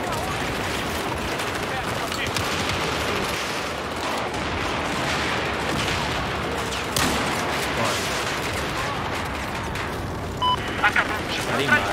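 Gunfire and explosions rumble through a DICE shooter match, scattered shots and booming blasts over a noisy battlefield, with someone talking over much of it.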